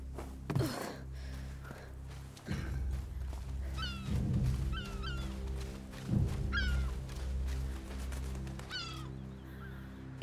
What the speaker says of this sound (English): It has to be a seabird.